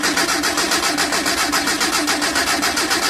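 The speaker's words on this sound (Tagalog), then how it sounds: "Tapos start ko ulit yan para malaman ko kung okay naman yung starting nito." A Mitsubishi L300 van engine runs with a steady, fast, pulsing mechanical chatter after a hard start, loud and close throughout with no pauses.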